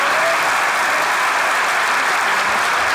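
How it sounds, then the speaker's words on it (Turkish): Dense, steady audience applause fills the whole stretch at full strength, with no voices over it, welcoming the newest bride of a comedy troupe at a live stage sketch show. "Ona göre bir alkış isterim."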